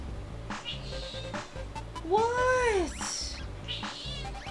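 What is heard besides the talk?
cat meowing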